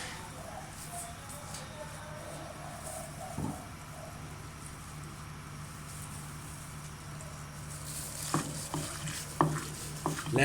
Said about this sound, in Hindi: लेमन जूस ऐड करके इसको अच्छे तरीके से मिक्स करेंगे